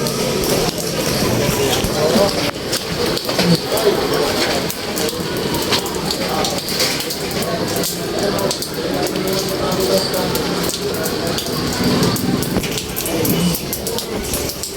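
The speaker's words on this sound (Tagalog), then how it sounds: "Ulan ang aming weather of the day." Steady rain pours down around a house on an overcast afternoon, a constant dense hiss filling the scene, with a person talking over it at times.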